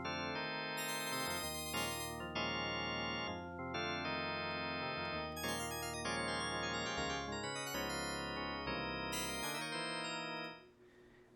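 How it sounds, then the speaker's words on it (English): Hammond-style organ patch built on the Voltage Modular synth with many drawbars open, playing a sequence of bright sustained chords and melodic notes, full and steady before fading out at the end. "let's make a Hammond synth using voltage modular"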